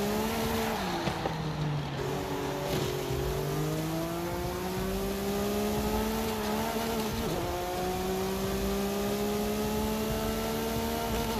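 A car drives through a mountain area in the video game Forza Horizon 5, its engine droning steadily and loud throughout, pitch rising and falling through gear shifts and revving, with occasional tire noise.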